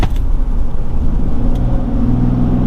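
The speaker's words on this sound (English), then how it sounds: "Even just giving it a little bit of acceleration, that wasn't that bad." A RAM High Output Cummins diesel pickup truck engine rumbles steadily and close by, its low drone building slightly as it accelerates, with no talking.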